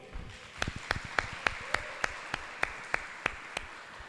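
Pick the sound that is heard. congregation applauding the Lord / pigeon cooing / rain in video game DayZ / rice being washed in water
congregation applauding the Lord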